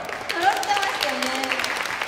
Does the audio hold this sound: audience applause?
yes